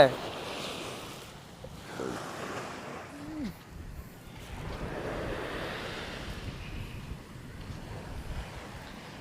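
Rough sea at a beach in Pandiruppu, Batticaloa, heard as a broad wash of surf and wind buffeting the microphone, with waves swelling and receding in slow surges and faint voices at moments.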